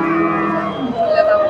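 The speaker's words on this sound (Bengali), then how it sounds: "জার্সি গাভী" A Jersey cow at a cattle market in Bogura lets out one long, loud, drawn-out moo close by, with faint market bustle beneath.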